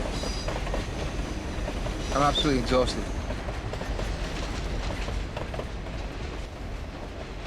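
A train rumbles past close by with rhythmic clickety-clack of wheels and a brief squeal, while someone speaks over the noise.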